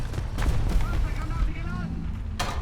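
A heavy 128 mm cannon shot from a Maus tank in War Thunder, a booming blast with a rumbling tail and a short crack near the end, while someone talks over it.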